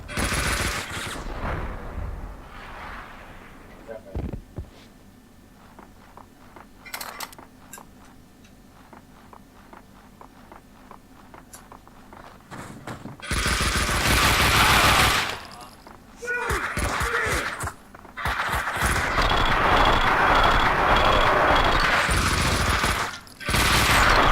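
Rapid bursts of gunfire from the Xbox game Max Payne 2: The Fall of Max Payne, with sparse shots early on building into loud, sustained automatic fusillades later, while a player talks over parts of it.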